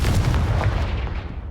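A Confringo blasting spell goes off in Hogwarts Legacy, a loud booming blast with a heavy low rumble that decays over about a second and a half, alone without talk.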